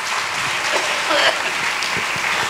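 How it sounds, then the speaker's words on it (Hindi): A church congregation at a Sunday service claps to thank God, a steady dense wash of applause with voices mixed in. "तालियां बजा के परमेश्वर को धन्यवाद दीजिए।"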